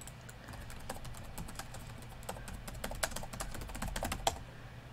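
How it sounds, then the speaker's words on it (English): Steady typing on a computer keyboard, quick irregular key clicks continuing throughout at close range, with no voices. "I love hearing you just typing."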